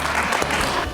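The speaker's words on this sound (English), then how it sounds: "Give them a big round of applause" An audience bursts into lively applause at a show's prize giving, with many hands clapping densely and loudly for a brief moment.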